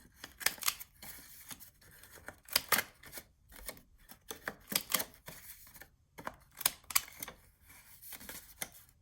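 A corner rounder punch clicks through paper corners for a paper wallet album, giving a string of sharp, close punches in small bursts with brief pauses between, and no one speaking.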